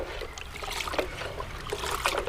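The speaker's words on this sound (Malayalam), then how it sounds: "ആ അര ബക്കറ്റ് വെള്ളത്തിലേക്ക് ഞാൻ ഈ ചാണകത്തിൻ്റെ ലായനി ഒഴിക്കുകയാണ്" A cow dung solution sloshes and trickles as it is poured into half a bucket of water, with splashy gurgles in short bursts, close and moderately quiet.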